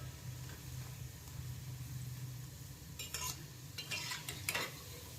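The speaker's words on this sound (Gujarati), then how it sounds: "એટલે ધીમી ફ્લેમ ઉપર તળવાની છે." Dhokli dough pieces frying slowly over a low flame, a soft steady sizzle with a low hum beneath and a few brief utensil scrapes toward the end.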